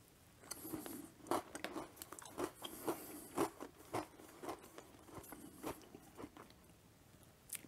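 Close, crisp crunching and chewing of a homemade ginger snap Twix cookie, with repeated bites and irregular crackly chews and no talking.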